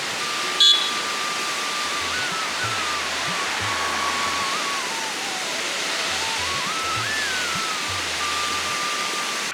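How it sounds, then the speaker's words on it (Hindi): A small mountain waterfall along the road near Mana village rushes in a continuous, dense wash of water noise with a faint tone drifting through it. "रास्ते में एक छोटा सा वाटरफॉल"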